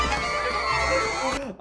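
An audience screams in a film scene about the violinist Paganini, a loud, harsh wash of crowd shrieking that fades near the end.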